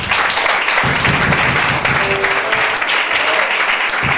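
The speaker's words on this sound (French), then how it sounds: "Acclamons très fort les Seigneurs." A church congregation applauds loudly and continuously, a dense, steady wash of many hands clapping with a faint voice briefly audible amid it.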